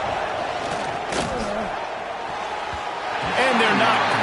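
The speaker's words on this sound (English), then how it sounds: "This is it to have the home crowd going absolutely bananas." A home crowd cheering in a college football video game against Mizzou, a steady, loud roar of the stadium crowd that swells near the end, with a commentator talking over it.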